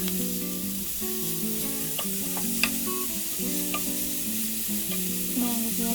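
Chopped chili and spices temper in hot oil in a frying pan, a steady sizzle and crackle with occasional sharp pops and stirring scrapes, close and continuous.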